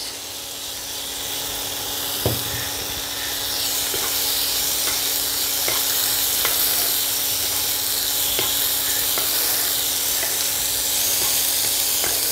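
Shrimp coated in salt and turmeric fry in hot oil in a kadai, giving a loud, continuous hissing sizzle with a single knock near the start and faint ticks throughout.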